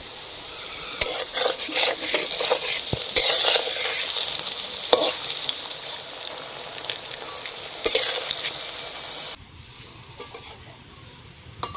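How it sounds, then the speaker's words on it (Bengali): Soybean dumplings (muitha) frying in hot oil give a steady, dense sizzle with occasional stirring clicks. The sound runs loud and continuous, then drops to a softer hiss near the end. "সবগুলো তৈরি করা হয়ে গেছে আর এইদিকে আগে থেকে তেল গরম করতে বসিয়ে দিয়েছিলাম। এবার এগুলো ভেজে নেব।"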